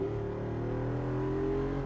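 The V8 engine of a 2024 Jeep Wrangler Rubicon 392 drones deeply and gradually climbs in pitch as it revs, a low rumbling tone heard fairly quietly.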